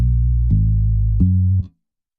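A distorted, fattened synth bass plays three sustained low notes with sharp attacks, loud and alone, then cuts off abruptly into silence.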